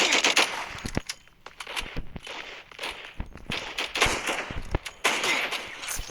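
A Roblox sniper rifle fires in rapid succession, sharp cracking shots with short gaps between bursts, loud and close amid faint game clatter.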